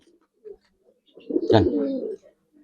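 Giribaz high flyer silver and coloured pigeons coo up close, one clear throaty, rolling coo after a soft brief call, in an otherwise quiet setting.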